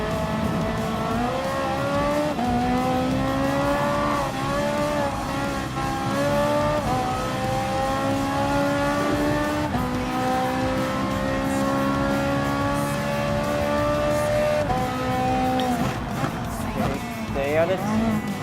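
A Ferrari 458 Italia GT3 race car in Gran Turismo Sport drones loudly and steadily at high revs, its engine pitch rising and falling through gear changes while sliding through a downhill turn, with someone talking over it.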